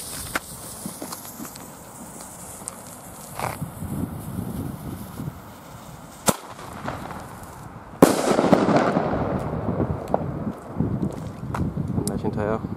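Flashbang firework salutes from Nico go off outdoors with a sharp, loud report near the middle and another blast later, followed by crackling debris and rumble; wind and faint footsteps sit beneath throughout.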